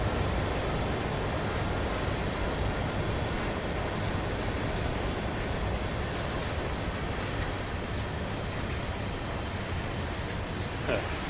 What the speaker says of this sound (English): Very, very slow train by.